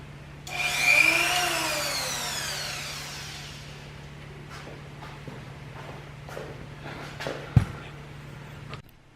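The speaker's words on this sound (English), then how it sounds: "I'll get my vacuum system going" A workshop dust vacuum system spins up with a rising whine, then settles into a steady drone with a low hum underneath, joined by a few faint knocks and clicks near the end.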